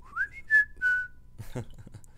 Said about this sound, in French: C'est le portable qui a lâché un petit sifflement.